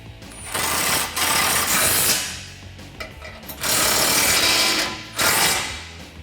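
Short bursts of tool tightening on 18mm nuts on the bolt plate of a Smittybilt M1 front winch bumper for a 2009-2018 Ram 1500, three loud close runs separated by brief pauses, with no talking.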